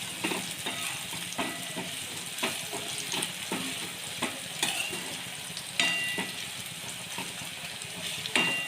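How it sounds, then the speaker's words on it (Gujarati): A spoon stirs turmeric and red chilli powder into onions and tomatoes frying in oil, with rhythmic scraping strokes against the pan over a constant close sizzle, no voices present. "બરાબર હલાવી લઈએ"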